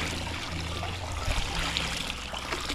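Water and wood ash poured into a basket for making African black soap, a steady, muffled trickling and splashing that runs close and continuous with no voices.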